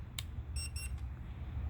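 An RC car's controller powering on: a faint electronic chirp followed by two quick high-pitched beeps over a low background rumble.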